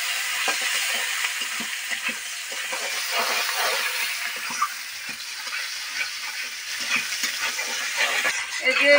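Chopped onion and garlic with bay leaf and cumin seeds sizzle in hot oil in a pan, a continuous frying hiss broken by intermittent scraping stirs, with no talking.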